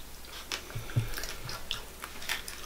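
KFC fried chicken is bitten and chewed up close, with several crisp crunches and moist chewing sounds in irregular bursts and no talk.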